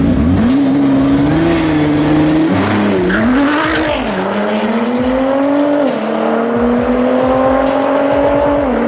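Alfa Romeo GTR and Porsche 911 Turbo S with tuned software and downpipe run a street race, engines screaming loud and close through rising gear changes, with tire squeal and no talking.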